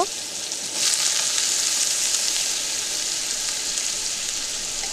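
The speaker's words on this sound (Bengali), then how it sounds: "কড়াইয়ের মধ্যে সর্ষে তেল দিয়ে দিচ্ছি পরিমাণ মতো তেলটা গরম হয়ে গিয়েছে আলুগুলো একটু ভেজে নেব" Potatoes sizzle in hot mustard oil in a wok, a steady dense hiss that swells near the start and holds evenly throughout, close and moderately loud with no voices.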